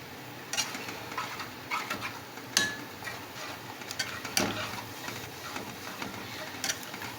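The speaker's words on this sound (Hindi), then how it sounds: "इसमें मुसलसल चम्मच हिलाना है कि दही और प्याज अच्छी तरह से मिक्स हो जाए।" Spoon stirring mutton with yogurt and onion in a cooking pot, a few scattered metallic clinks and scrapes against a low sizzling background, moderately close, no talk.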